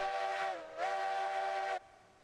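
A steam locomotive whistle in the Railroads Online game, a loud, steady two-part blast with a brief dip in pitch between them, then cutting off sharply with no talk over it.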